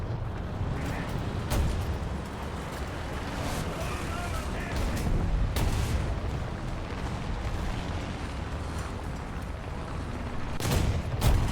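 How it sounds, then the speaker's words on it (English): Tank cannon fire in War Thunder, several sharp booming shots scattered over a constant rumbling engine and battle din, with a louder blast near the end. "The armor piercing round was taking a little bit of time."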